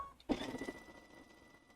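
A sewing machine stitching bias tape in place starts after a brief pause and runs in one short, quiet burst of whirring that slowly fades.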